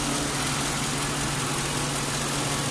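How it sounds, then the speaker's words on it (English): A Lincoln Town Car idles with its A/C compressor engaged and running steadily, giving a constant, even engine hum with a low mechanical whir and no changes in rhythm. "It's steady now. The compressor is on and it's staying on."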